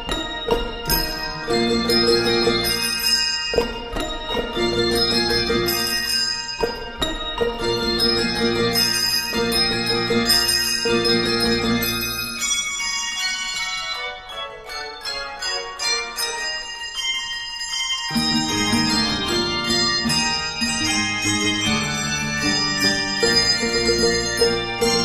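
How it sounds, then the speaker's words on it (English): Bells ring out in a series of struck, resonant tones of differing pitches, overlapping and sustaining, with a quieter stretch midway before ringing resumes. "every bell has its own pitch and makes its own particular"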